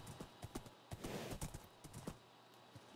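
Horse hooves clip-clop in a steady rhythm as a horse is ridden through a mushroom forest in Minecraft, close, clear and without voices.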